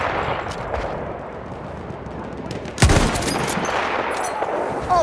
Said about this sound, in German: Aufpassen, Maschinengewehr!